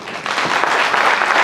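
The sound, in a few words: audience applause for a poet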